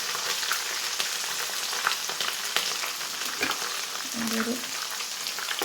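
Uncrushed garlic cloves fry in hot oil for a Kerala-style mango pickle, giving a steady close sizzle throughout with a few stirring clinks, and a voice speaks briefly near the end.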